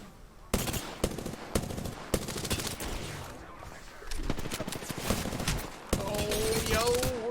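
Gunfire in a shooter video game comes in repeated sharp bursts of rapid automatic fire with short gaps between them, then a denser sustained stretch of shooting, loud and close.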